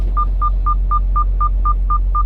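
Nine evenly spaced keypad dialing tones from a booth telephone at a dairy plant pickup, each a short clean beep, sounding alone over a steady low hum.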